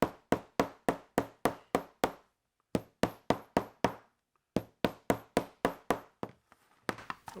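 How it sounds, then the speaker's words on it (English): A cobbler's hammer taps leather for a shoulder holster in even, sharp strikes, about three per second in bursts of several blows separated by short pauses, close and clear. "Now I take my cobbler's hammer."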